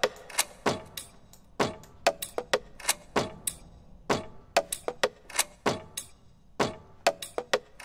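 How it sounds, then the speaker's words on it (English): A Foley-style percussion loop for a hip-hop beat made in Ableton, built from crisp clicks, taps and knocks in a steady, syncopated pattern of close, dry hits with no talking. "And I found this really good sort of Foley drum loop, which sounds like this by itself."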